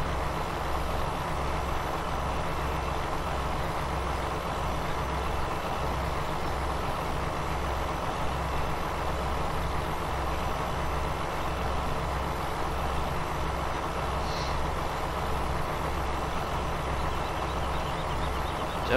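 Steady rumbling engine drone of a farm machine in Farming Simulator 17, a continuous low diesel-like hum running evenly and fairly loud throughout, with no talking.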